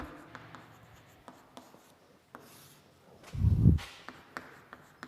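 A pen writes a chemistry answer on paper with soft, close scratching strokes in a quiet room, ending in a brief, firmer burst of rubbing.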